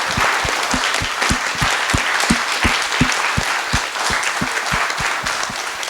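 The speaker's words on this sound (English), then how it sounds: "Let's go ahead and give them a big round of applause." An audience gives a sustained round of applause, steady dense clapping filling the room for the full six seconds without talk.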